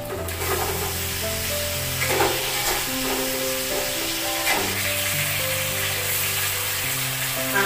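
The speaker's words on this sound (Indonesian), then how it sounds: "Lanjut goreng kerupuk sama ikan asin" Kerupuk crackers and salted fish fry in hot oil, a loud, continuous sizzle and crackle with occasional stirring scrapes, alone without talk.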